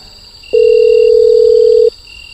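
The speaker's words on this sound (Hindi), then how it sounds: "फिर उसने अपने कमरे से मैनेजर को फ़ोन किया" A telephone tone in a Hindi horror story, as a hotel guest phones the manager from his room at night: one steady, clean tone lasting about a second and a half, loud and alone over faint background hiss.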